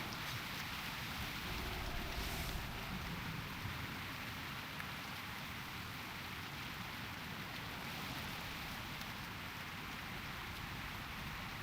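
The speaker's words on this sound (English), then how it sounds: "here comes the rain big time now. It's really coming down now." Heavy rain falls steadily in World of Warcraft, a constant dense hiss of downpour with a brief swell near the start and no speech.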